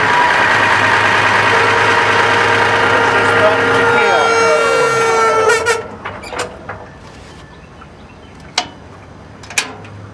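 A Morbark waste recycler's engine cranks and starts, with a loud, dense mechanical roar that rises and shifts, then cuts off into quieter background with a couple of sharp clicks.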